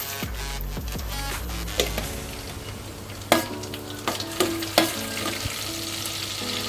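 Cumin seeds sizzle in melted butter and oil for Surat street-style cheese paneer gotalo: a steady close frying hiss with scattered crackles and several sharp pops toward the middle, no voices.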